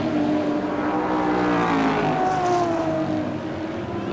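Touring cars racing at Amaroo Park Raceway in Sydney during round 8 of the 1988 ATCC Shell Series, a loud, continuous engine roar with rising and falling pitch as the cars run close, with no talk.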